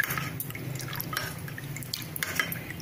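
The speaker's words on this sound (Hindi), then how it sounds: "इसको पानी डाल के घोल तैयार करेंगे" Water trickles and drips into a small bowl of arrowroot powder being mixed into a slurry for Manchow soup, a close, light splashing and patter that runs unbroken throughout.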